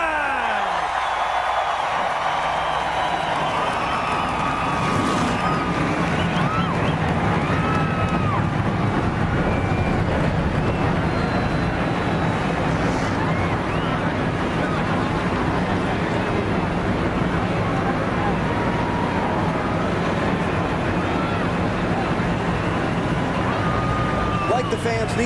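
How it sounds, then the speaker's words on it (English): Forty-three 800-horsepower NASCAR stock car engines fire up at Richmond International Raceway for the 2004 Chevy Rock N Roll 400. A dense, loud, continuous roar swells within the first couple of seconds and holds steady throughout. "the sound of those 43 800 horsepower engines just raised the adrenaline a whole new level here at the Richmond International Raceway"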